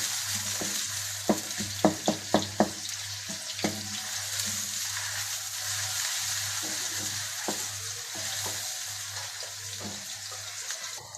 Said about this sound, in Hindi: प्याज का कलर लाइट ब्राउन कर लें।